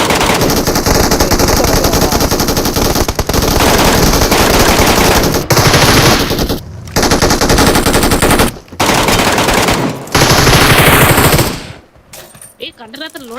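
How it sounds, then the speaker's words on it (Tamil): Loud automatic gunfire in the mobile battle royale game PUBG Mobile, dense rapid bursts rattling almost continuously with brief pauses, very close and dominant, with players talking over it. "சுடு கரெக்டா சுடு"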